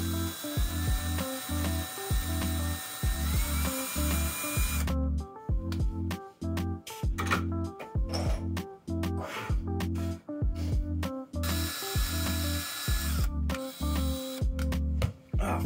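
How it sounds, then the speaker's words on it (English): Cordless drill driving screws to mount a desk slide rail, heard as repeated close bursts of whirring and ratcheting with short pauses between them and no talk. "Fucking drill ran out of battery."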